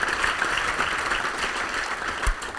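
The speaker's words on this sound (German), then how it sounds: "Kräftigen Applaus für meinen Assistenten und das versprochene Bier." Loud, dense audience applause at a science slam show, a steady wash of many hands clapping that fills the hall and stays strong throughout, with a brief bump near the end.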